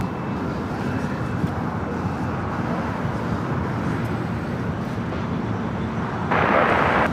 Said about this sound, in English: Next takeoff here on the south side is JetBlue, flight 1524, A321 Neo heading to JFK.